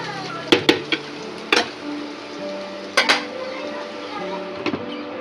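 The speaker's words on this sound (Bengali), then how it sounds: "আরও 2-3 মিনিট মতন একটু ভাজা করতে হবে।" Small diced potatoes frying in a pan at home, with a soft continuous sizzle broken by several sharp clinks and scrapes of a utensil stirring against the metal, close and fairly loud.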